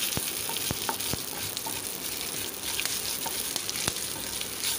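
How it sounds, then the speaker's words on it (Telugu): Dried red chilies frying in hot oil in a pan for brinjal cabbage pachadi, a continuous close sizzle broken by sharp pops and crackles, with no one talking. "ఎండుమిర్చి వేసుకుందాం. కొంచెం వేగిన తర్వాత మనం కరివేపాకు కూడా"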